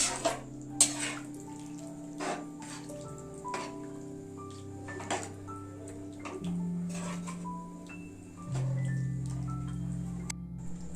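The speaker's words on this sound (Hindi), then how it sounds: "अब इनमें हमला पानी डाल देना है।" Water runs and splashes into a pot of softened tomatoes in stretches, with occasional clinks and knocks of metal; no talking.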